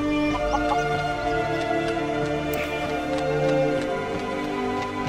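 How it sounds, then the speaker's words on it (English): Chickens clucking in Skyrim VR, a few short cackling calls popping up over a steady, busy game soundscape of ambient tones and background noise. "Chicken."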